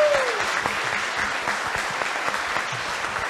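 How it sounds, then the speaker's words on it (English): An audience at a Gettysburg trivia show applauds the fourth and fifth place winners, a loud, dense round of clapping that holds steady throughout, with faint voices underneath. "let's give our fourth and fifth place winner here a round of applause"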